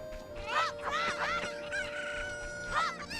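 Angry Cuccos from Zelda: Ocarina of Time squawk and cluck in a rapid string of shrill, rising game-chicken cries, several overlapping calls close and loud with no talking.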